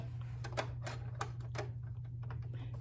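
A Brother PE800 embroidery machine gives a quick run of sharp plastic clicks and taps, close and fairly quiet, over a steady low hum.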